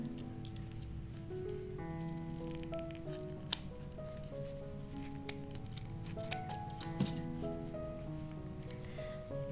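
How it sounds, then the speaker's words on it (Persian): Scissors snip the end of a hidden zipper during a knitted pencil case project, giving a few soft, sparse clicks and cuts at low volume under gentle background music. "ببینید قسمت جلوی زیپ رو باید قیچی کنین"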